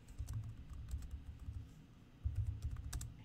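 Keys clatter on a computer keyboard while a document is typed in Google Docs, a quick uneven stream of light clicks in bursts with brief pauses, close and moderately quiet.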